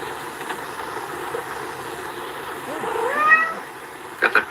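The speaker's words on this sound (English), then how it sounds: "Did you hear the meow in the background?" A cat meows in the background of an indoor room, with a short, clear meow midway and a few faint bursts after, heard at moderate distance.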